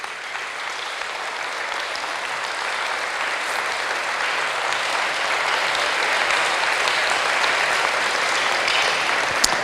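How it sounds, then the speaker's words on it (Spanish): A church congregation clapping in praise after a sermon: dense, steady applause from many hands, building slightly louder toward the end, with no speech over it. "Vamos a dar un aplauso a Jesús."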